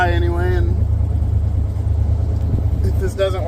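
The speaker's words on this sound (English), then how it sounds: "I don't know if the phone's gonna stay or do justice to how this truck sounds" Low, steady engine rumble from a running 1935 Ford truck, heard close up under a person talking at the start and end.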